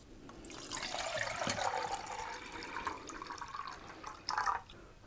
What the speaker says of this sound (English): So let's get some water in the pot